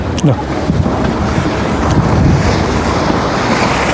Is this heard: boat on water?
yes